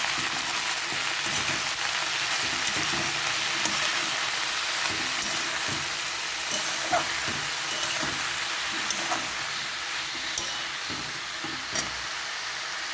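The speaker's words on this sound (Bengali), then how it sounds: "এইভাবে আলু পেঁয়াজ শাক সব সেদ্ধ হয়ে যাবে।" Potatoes and onion greens with salt, turmeric and green chilli cook in a pan, giving off a steady, close sizzle and hiss with small crackles throughout and no talking.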